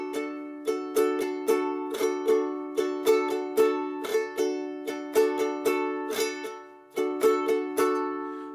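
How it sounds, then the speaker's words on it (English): A ukulele strums a steady pattern for a song, with a four-finger rasgueado flick on beat two giving a crisp rolled accent, played alone in a clean, even rhythm. "It's something called the rasgueado, where you play all four strings."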